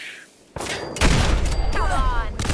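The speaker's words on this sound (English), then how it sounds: "Okay, so I got killed by a grenade." A grenade blast in the Fallout 4 video game: a sudden loud burst of noise, then a sustained roar with more rumbling and crackling, and a voice cuts in partway through.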